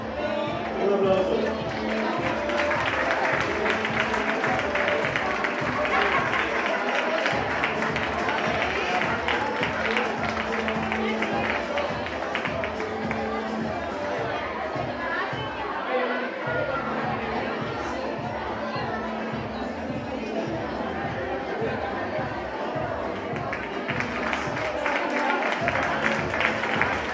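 A crowd claps and chatters continuously at a children's carnival costume contest in Chillón, the applause rising and dipping in waves with a few brief lulls, voices audible underneath.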